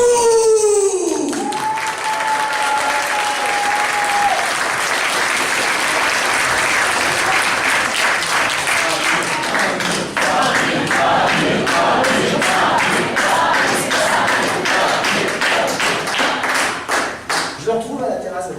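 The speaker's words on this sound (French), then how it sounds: "Mesdames et messieurs, si vous donner un applaudissement, Amir" A comedy show audience bursts into loud, sustained applause with cheering that fills the room, dense clapping running for many seconds and beginning to break up near the end.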